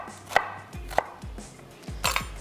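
Medium-sized onion being chopped on a board with a knife, several sharp close knife strikes spaced irregularly, including a quick double chop near the end, with no talking.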